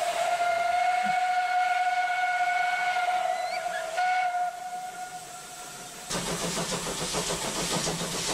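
Steam locomotive whistle holding steady tones with constant hiss, then a sudden burst of loud broadband steam hiss that continues to the end, with no talk.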